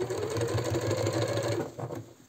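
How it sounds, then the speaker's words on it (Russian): A domestic sewing machine runs fast and steady, its needle hammering in an even rhythm while topstitching a seam on a men's shirt sleeve armhole, then slowing and stopping near the end. "И аккуратно настрачиваем отделочную строчку, которая закрепляет припуск."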